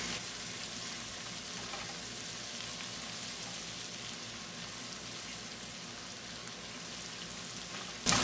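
Steady close sizzling and crackling of ginger garlic paste frying in hot oil in a pan, a continuous hiss with no voices.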